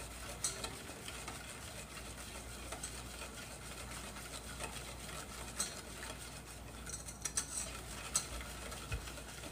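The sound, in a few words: hand whisking eggs and sugar for martabak batter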